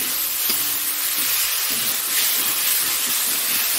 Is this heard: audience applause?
no